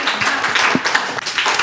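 A studio audience at a televised children's quiz show breaks into applause, a brief burst of dense, steady clapping heard close and loud for under two seconds.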